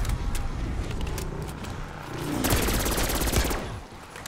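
Rapid automatic gunfire from a heavily recoiling gun in Black Ops 6 Zombies on the Terminus map, a dense rattling burst that swells in the middle of the clip over a constant background of game noise.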